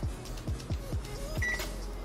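A series of soft, quick button presses on a microwave oven control panel, followed by a single short electronic beep.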